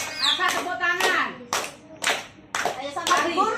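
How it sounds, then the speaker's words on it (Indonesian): Children clapping their hands in several loud rhythmic bursts during a school project visit to local food makers, mixed with children's voices and chatter between the claps. "Apa tepuk tangan?"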